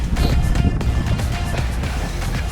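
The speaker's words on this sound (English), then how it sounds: "Sorry about the wind, if you can hear it" Gusty outdoor wind buffets the microphone at a breezy off-road driving course, a steady low roar filling the whole stretch without clear speech.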